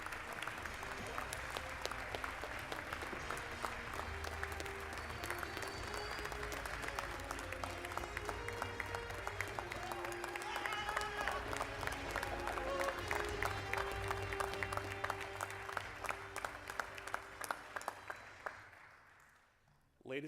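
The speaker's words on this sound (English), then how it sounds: "Please give a round of applause to the Army's newest second lieutenants." A large audience applauds the Army's newest second lieutenants at a university commissioning ceremony, sustained clapping with an organ or band sustaining chords underneath, building slightly before fading out near the end.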